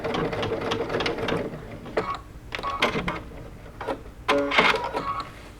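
A sewing machine back stitching while a bucket hat is sewn, a rapid mechanical whirring in short bursts broken by brief pauses and clicks, close and fairly loud.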